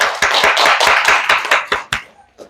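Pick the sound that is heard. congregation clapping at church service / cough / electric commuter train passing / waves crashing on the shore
congregation clapping at church service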